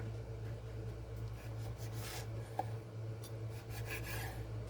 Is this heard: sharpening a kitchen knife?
yes